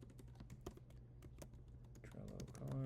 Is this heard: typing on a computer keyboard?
yes